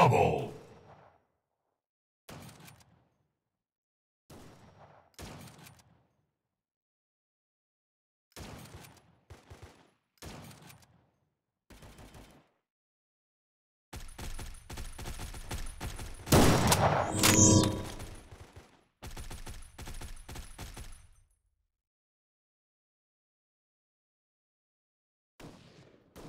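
Gunfire in the mobile shooter Guns of Boom: short separate bursts of shots early on, then a long, louder run of rapid automatic fire with whooshes, ending in a near silence and one last burst.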